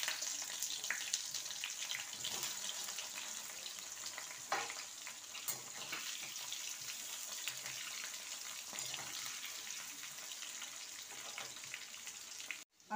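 Three medium onions dropped into hot oil already sizzling with panch phoron, a steady close frying crackle with small pops and stirring scrapes, no talking.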